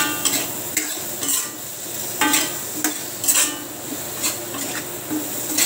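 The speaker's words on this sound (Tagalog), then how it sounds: "Ilagay na natin yung pangalawang gata." A second portion of coconut milk goes into a simmering yellowfin tuna Bicol express with squash and vegetables, with steady stirring scrapes and soft sizzling bubbling throughout, punctuated by a few sharper utensil clinks against the pot.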